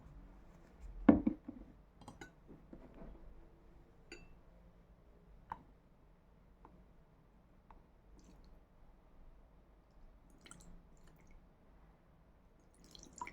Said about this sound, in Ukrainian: Тепер додамо сюди 4 ложки звичайної води.